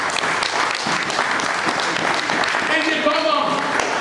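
A church congregation applauds during a sermon, a dense, steady wash of clapping from many hands with voices calling out underneath.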